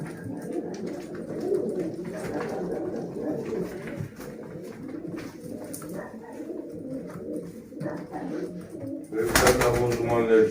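Pigeons cooing continuously at a bird auction of breeding stock, a dense, close chorus of low throaty coos with a louder flutter or burst near the end, and someone talking intermittently over the birds.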